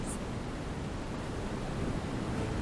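A waterfall in Star Trek Online rushes as a steady, dense wash of noise that stays constant and fairly loud throughout, with no voices.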